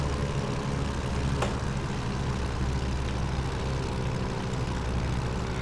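A propeller aircraft engine droning steadily at idle on approach in X-Plane, a constant low hum with a brief click near the start and no talk.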